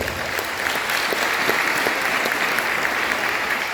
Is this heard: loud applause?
yes